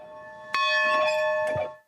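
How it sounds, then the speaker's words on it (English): Church bells ringing in Vida, Manitoba: two clear bell strikes with long, bright metallic ringing tones sustained between them, close and loud, fading at the end. "In Vida, Manitoba, church bells rang again this year after a 13-year-old closure"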